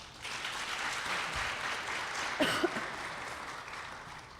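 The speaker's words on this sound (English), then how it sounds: "Please give a big round of applause for Carvana Cloud" Quiet applause from an audience at a domestic violence awareness event, soft even clapping that continues for several seconds, with a brief louder moment in the middle.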